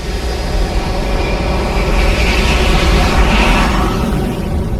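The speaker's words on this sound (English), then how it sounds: "to the thunder of a jet engine." A loud jet engine roar from an IMAX surround sound demo: a dense, steady, rumbling rush that fills the whole clip at close range, with no voices.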